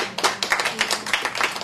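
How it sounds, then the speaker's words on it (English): A small audience at a showcase event gives a round of applause for a panelist, distinct individual claps in an irregular patter, close and fairly loud. "Let's give Brother O'Dell a big round of applause"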